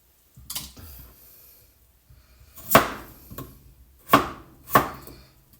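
A knife cuts through a peeled potato in a handful of crisp, close knocks on a cutting board. The strokes are irregular and spaced apart, with quiet gaps between them.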